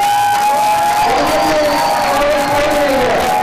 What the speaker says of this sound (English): A big round of applause to Veronica for being